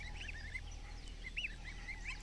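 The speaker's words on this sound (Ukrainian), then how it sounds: "Це наше гусінько, воно таке малючке." Small goslings peep softly, giving a few short, high, wavering calls in quick clusters that are close but faint against a low, steady background hum.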